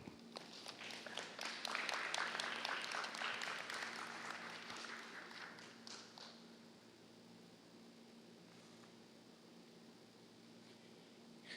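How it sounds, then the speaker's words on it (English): Applause from an audience at a commission meeting, a moderate crowd clapping most densely for the first few seconds and then thinning out into a low room murmur and steady background hum. "Let's give another round of applause to all the folks who spoke today."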